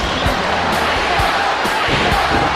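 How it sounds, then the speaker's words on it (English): Capacity arena crowd from the WWF No Mercy wrestling video game, a steady dense roar of massed voices with rhythmic chanting pulses rising and falling throughout, loud and continuous. "There's capacity crowd picking up the chant."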